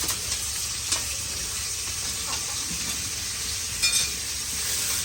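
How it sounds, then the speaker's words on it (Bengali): Fish sizzles in a pan in a home kitchen, a steady, even crackling hiss throughout with a few small pops, and no voices. "আমার চাচি হলো মাছ ভাজতেছে"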